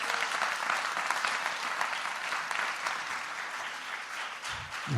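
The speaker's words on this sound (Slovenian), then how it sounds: "En aplavz, lepo prosim." Applause from an audience at a live show held at a castle fills the whole span, dense, steady and sustained, with no voices over it.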